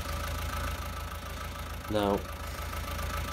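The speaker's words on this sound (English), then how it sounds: "Oops, start the engine." A tractor engine in Farming Simulator 19, on a Sussex farm, idles with a low, steady rumble, then briefly catches with a short rising whir before settling back to idle. Someone speaks a single word over it.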